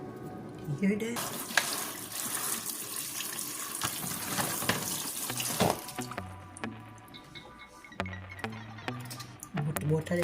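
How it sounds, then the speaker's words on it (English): Tap water runs into a cooking pot holding Idaho potatoes and carrots for curry chicken: a steady rushing stream for about five seconds, then it cuts off, with faint voices and kitchen sounds afterward. "Put water in together."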